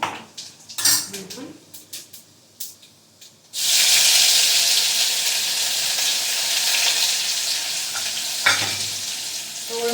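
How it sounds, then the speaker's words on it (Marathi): Cumin seeds dropped into hot oil for a tempering in a home kitchen, a few clinks of a utensil on the pan, then a sudden loud, steady sizzle that continues to the end, close by. "मी फोडणी घालून घेऊया आधी जिरं घालते"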